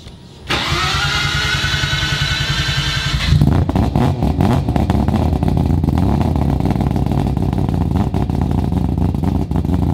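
A Mazda RX7 with a 20B three-rotor engine howls loudly at high revs on the street, then drops abruptly into a rough, crackling, pulsing rumble that continues close and strong.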